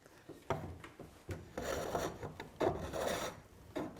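A wood-turning tool's straight flute scraping and shaving high spots on spinning wood on a lathe, producing short raspy rubbing strokes and brief scratches, close and fairly quiet.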